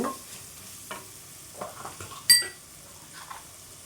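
Onions with ginger-garlic paste and salt sizzling in a pan while being stirred, with soft scraping strokes and one sharp clink of a utensil against the pan partway through; faint and close, with no talk.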